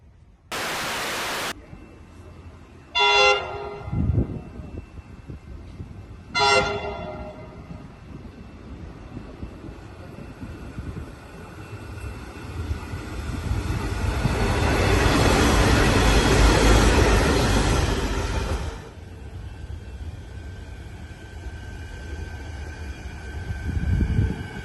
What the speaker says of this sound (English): let's watch some Comeng and Siemens trains in the Moonee Ponds area